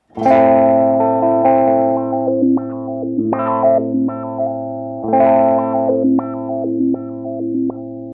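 Electric guitar through a Beetronics Zzombee Filtremulator filter pedal in Mad Mode, sustained chords with a sweeping, wavering movement that ramps in and out, repeating in waves, loud and close.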